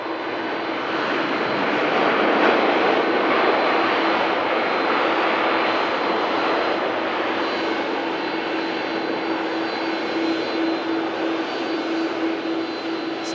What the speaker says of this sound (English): Second time today, seeing a nice pair of CF6 engines.